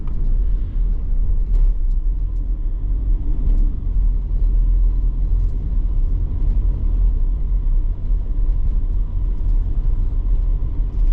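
A car drives steadily in third gear along a narrow road, with a constant low engine rumble and road noise close by and no talk.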